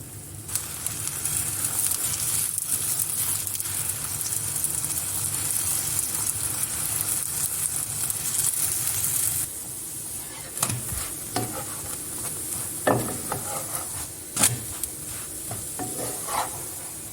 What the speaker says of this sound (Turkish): Üzerinde azıcık, kenarına da şöyle azıcık yağ gezdiriyorum ve hemen çeviriyorum